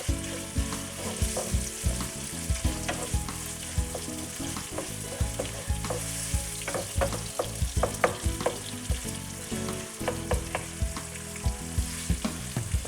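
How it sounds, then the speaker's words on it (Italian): Italian sausage browning in a pan with oil and onion, a close bright sizzle with crackling spits and intermittent scraping stirs, steady throughout with no voices. "la possiamo mettere direttamente nel tegame e facciamo rosolare bene anche la salsiccia insieme"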